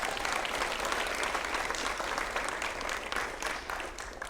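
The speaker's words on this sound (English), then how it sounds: "let's give a round of applause to Mr. Reed" A crowd at a karate black belt graduation applauds steadily for several seconds, dense clapping holding at an even level before tapering slightly at the end.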